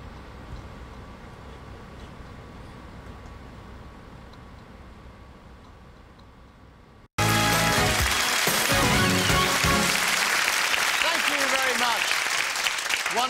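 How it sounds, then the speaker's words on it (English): Studio audience applause on the UK game show Whittle: after quiet background hum, loud sustained clapping from a large crowd bursts in suddenly and continues without letup, with some cheering mixed in. "Give them a big round of applause"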